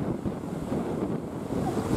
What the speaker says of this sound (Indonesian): Sekarang ini ombak tingginya sampai berapa meter ini? Angin kencang ini.